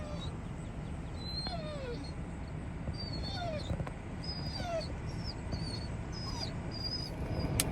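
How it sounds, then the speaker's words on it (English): A hunting dog whimpers and whines repeatedly from the back seat of a vehicle, a steady run of high, excited cries over low road and cabin noise. "So we got a hunting dog in the back seat."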